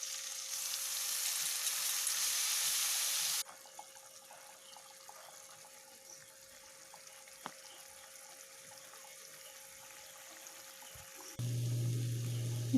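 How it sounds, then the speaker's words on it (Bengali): Masala spices fry in a little oil for a Bengali home-style meat curry, a steady sizzle that is loud at first, then drops to a faint simmer with occasional light clinks. "দেখো, মশলাটা ভাজা হয়ে গেছে।"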